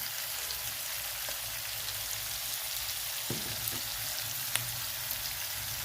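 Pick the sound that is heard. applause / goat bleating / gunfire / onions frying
onions frying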